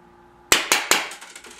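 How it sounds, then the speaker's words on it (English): An IZH Drozd CO2-powered BB pistol fires a three-shot burst at 300 rounds per minute: three sharp, evenly spaced cracks close by, each followed by metallic rattles and faint pellet impacts. "I'm going to set it to 300 rounds per minute and do a 3-shot burst."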